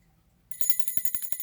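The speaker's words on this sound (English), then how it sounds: "We'll hang up this red bell." A small red decorative Christmas bell, a cheap dollar-store ornament, rings after a quiet start with a quick run of bright, jingling strikes, close and clear with no talk over it.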